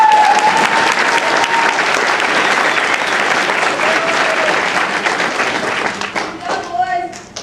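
Parents at a boot camp graduation ceremony for troubled teens applaud loudly in a dense, sustained wave of clapping that tapers off near the end, with some voices and a few cheers mixed in.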